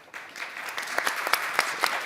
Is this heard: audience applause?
yes